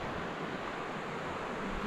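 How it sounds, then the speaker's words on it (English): Surf washing onto Cape Tribulation Beach in the Daintree: a steady, fairly faint wash of breaking waves with a soft wind-like hiss, continuous and unbroken. "Cape Tribulation Beach."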